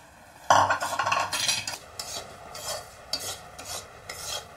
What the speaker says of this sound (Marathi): रवा चांगला भाजून घेऊ।